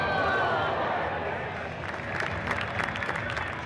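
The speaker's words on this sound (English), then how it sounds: "There's some polite applause from the crowd as McKinnon is helped off the ice." Polite applause from a hockey arena crowd as an injured player is helped off the ice, a steady wash of scattered clapping and crowd noise, moderately distant, with a voice talking over it.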